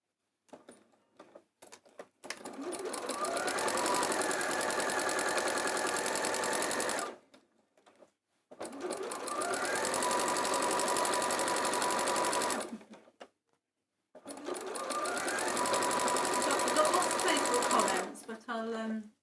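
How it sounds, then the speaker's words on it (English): Sewing machine stitching around the outside of a fabric summer bag, three long steady runs of rapid mechanical whirring separated by short pauses, loud and close with no talking. "I'm going to sew around the outside now"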